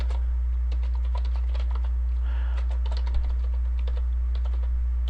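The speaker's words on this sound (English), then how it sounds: "go to the course and type in the course name" Someone types a course name on a computer keyboard, producing a quick, irregular run of close, crisp key clicks over a steady low hum.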